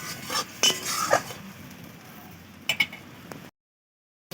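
Fish curry with fried okra being stirred and sautéed in a pan, spoon scraping and clinking against the metal in scattered bursts over a faint sizzle, then cutting to silence.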